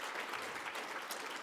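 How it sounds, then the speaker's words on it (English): An audience at the Toronto Book Awards 50th anniversary ceremony gives a round of applause, a dense, even burst of many hands clapping that fills the whole moment. "we'll give Rabindranath a nice round of applause"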